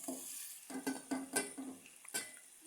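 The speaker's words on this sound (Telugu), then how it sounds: "చేపలను మంచిగా ఒకటొకటి వేసుకొని ఆయిల్లో ఫ్రై చేసుకోవాలి." Fish pieces fry in oil, a quiet soft sizzle under light clinks and stirring taps of a utensil against the pan, short and fairly faint.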